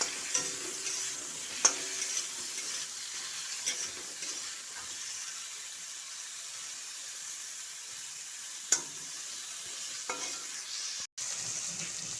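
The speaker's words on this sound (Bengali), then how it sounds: "তো প্রথমে পটলটা ভাজা করার জন্য আমি তেল দিয়ে দিচ্ছি।" Pieces of pointed gourd frying in oil, a soft steady sizzle with faint occasional clicks of a utensil, quiet and continuous without voices.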